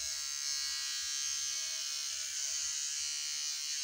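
An electric shaver buzzes steadily and close up while cutting hair off a head, a continuous high-pitched whine with no breaks.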